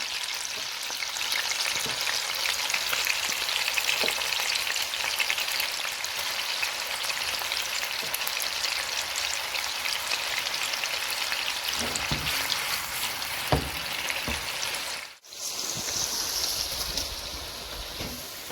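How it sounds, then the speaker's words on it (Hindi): Koftas (meatballs) fry in a pan of oil for an Iftar meal, giving a loud, steady sizzle that carries on throughout with a few small pops and one brief dip near the end. "अब हम कोफ्तों को भी फ्राई करेंगे।"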